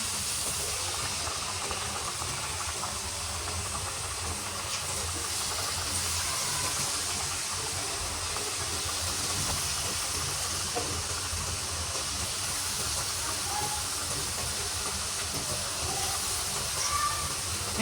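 Jhal poa batter drops into oil heated at medium flame and fries with a steady, loud hiss and sizzle that runs unbroken throughout.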